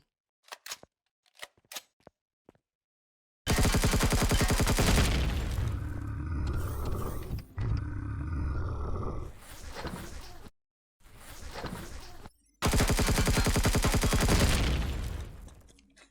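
Gunfire in the sci-fi survival game Empyrion Galactic Survival, with a few sharp isolated shots followed by long loud sustained bursts of rapid automatic fire, separated by brief pauses.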